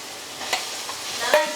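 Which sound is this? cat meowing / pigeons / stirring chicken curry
stirring chicken curry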